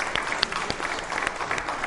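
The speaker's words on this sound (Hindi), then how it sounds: "तालियां जोरों से बजाइए आपके लिए" A quiz show audience on the Indian legal system claps for a correct answer, a brisk burst of many hands with a few sharper individual claps standing out, fairly close, with no voices over it.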